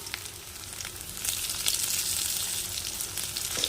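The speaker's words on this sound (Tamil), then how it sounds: "வெண்டைக்காயை ஆயிலில் நல்லா வதக்கி எடுத்துக்கலாம்" Okra frying in hot coconut oil, a dense crackling sizzle that grows louder after the first second and holds steady, with only faint stirring and no speech.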